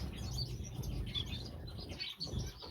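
Star finches chirp steadily in a busy aviary, high twittering calls overlapping continuously at close range with no talking.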